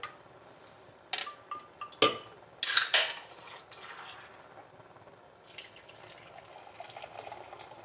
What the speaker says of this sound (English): Then you want to add your broth. And your beer.